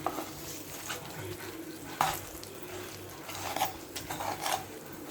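Brinjal curry being stirred in a pan over a high flame, with a steady low sizzle of frying and a few sharper scraping knocks of the spoon against the pan.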